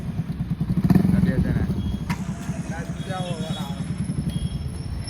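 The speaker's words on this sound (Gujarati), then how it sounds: "આ બાઈક બહુ બખારો કરે." A noisy motorcycle engine, a friend's new bike, idles and chugs close by in a steady pulsing rhythm, briefly louder near the start, with a thump partway through and faint voices in the background.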